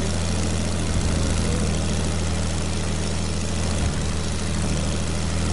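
Steady propeller airplane engine drone in a video game, a constant low hum and idling rumble held at an even level throughout, with no talk.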